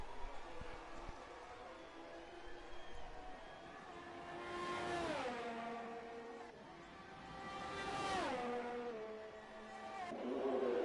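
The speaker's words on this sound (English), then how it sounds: "Looks like Briggsy in that Ferrari is making an outlap" Ferrari Formula 1 race car engine in the F1 video game at Monza during the Italian Grand Prix, high-pitched screaming revs rising and falling through gear changes as two loud passes sweep by.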